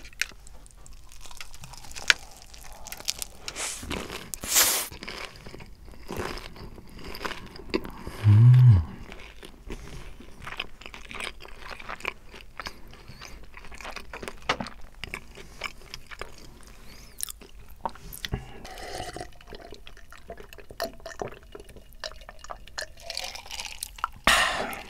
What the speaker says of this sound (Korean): 이렇게 치킨 먹방 ASMR을 해봤는데요